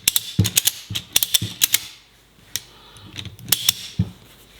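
Quick bursts of sharp mechanical clicking come from the ratchet on a Husky 2-inch cargo strap as it is cranked tight, several clusters of close, rapid clicks separated by a short quiet pause.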